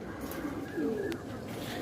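Madrasi pigeons cooing softly at moderate distance, a low throaty coo rising around the middle of a short stretch over steady background noise; someone talks quietly nearby.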